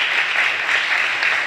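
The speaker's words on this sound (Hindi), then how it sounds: "जोरदार तालियां खुदा के जलाल के लिए," Church congregation applauding during a sermon on Christian fasting, a loud, sustained burst of many hands clapping in an even, dense roar with no speech over it.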